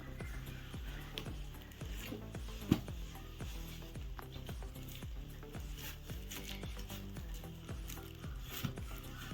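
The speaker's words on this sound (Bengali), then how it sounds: "আবারও ভালো করে নেড়ে দেবো" Pabda fish curry is stirred in a pan, with a steady series of soft scraping strokes over a quiet simmering sizzle and one sharper knock partway through.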